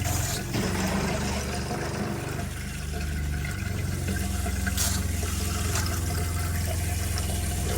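A steady rush of water and pink antifreeze runs from a sink tap in a Winnebago Micro Minnie 2106DS RV, with a continuous splashing flow and a few brief knocks, heard close and uninterrupted.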